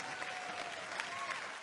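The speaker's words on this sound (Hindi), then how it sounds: "इनके लिए भी जोरदार तालियां।" A studio audience at a televised comedy show breaks into steady applause, a soft, even wash of clapping heard from a distance.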